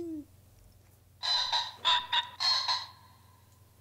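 Birds in theHunter: Call of the Wild, on its Mexico map, give loud honking, fowl-like calls in several bursts over a low steady hum, with no one talking.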